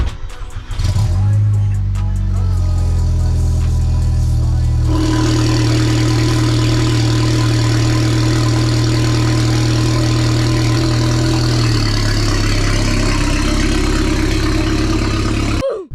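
A stage 2 tuned VW Golf GTI engine starts up and runs steadily while driving, a deep continuous hum and drone that shifts in tone as it keeps going, then cuts off abruptly.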